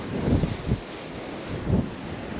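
Steady wind on a beach rumbles and buffets the microphone, with a few louder low gusts swelling and fading over a constant broadband rush.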